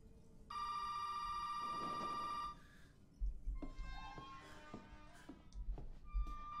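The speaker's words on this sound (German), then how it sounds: "Klingelt hier ein Telefon." A telephone rings in the horror video game Resident Evil 7, one steady electronic ring burst lasting about two seconds, followed by quieter scattered thuds and game noises.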